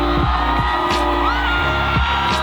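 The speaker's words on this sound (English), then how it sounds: "crossed the line with the greatest roar from a crowd I have ever heard" A crowd at a marathon finish line roars as Kipchoge crosses, a loud continuous wash of cheering and whooping, with brief bangs and sharp shouts rising above it.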